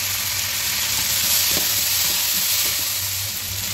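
Green chili and chili powder fry in a pan with a loud, dense sizzle and hiss that runs without a break. A few faint stirring scrapes sit under it.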